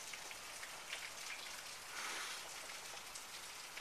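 Heavy rain and hail pelt outdoor surfaces during a thunderstorm in Los Angeles, California, a dense, steady hissing patter with scattered sharper hits, continuous and fairly close, with no voices.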